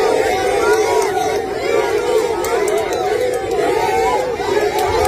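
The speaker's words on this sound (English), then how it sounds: "a huge crowd escorted Rigathi Gachagua just to show them that we still love our man" A huge crowd escorting Kenyan politician Rigathi Gachagua, chanting and singing in loud, continuous, rhythmic waves of many voices, with shouting mixed in.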